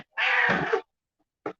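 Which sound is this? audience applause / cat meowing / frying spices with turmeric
cat meowing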